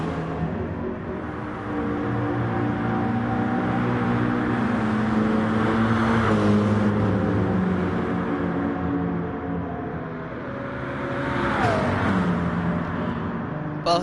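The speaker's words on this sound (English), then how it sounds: "Both of these turbo V8 cars, they sound very, very different from one another." Turbocharged V8 GT3 race cars in a racing video game on the Tokyo South Inner Loop drone with a steady, fairly loud engine note, and a pitch drop near the end suggests a downshift or slowing.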